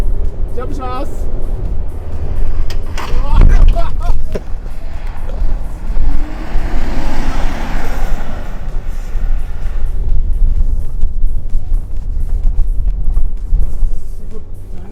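A Mitsubishi Triton pickup jumps along a narrow rally road, its engine roaring under a rough, broadband rumble and a sharp thump near the start, with excited voices over the noise.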